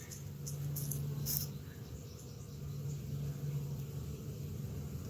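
Honey bees fanning at a hive entrance after overwintering, a low steady buzzing drone outdoors with a few brief higher sounds near the start.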